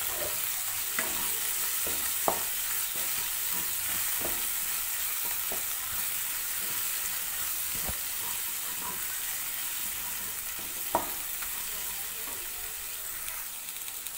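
Spices with chili powder, garam masala and chicken masala being stirred in a hot pan, a steady sizzle and frying hiss with scattered spoon scrapes and clicks, close and alone without talk.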